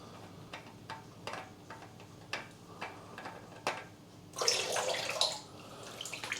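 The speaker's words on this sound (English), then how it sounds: "I'll let that drain down for a while." Engine oil draining from the sump of a 2010 Honda Jazz 1.2 petrol: a run of soft, sharp drips ticking at an uneven pace, then a brief rushing splash of flow. Close and fairly quiet, with no talking.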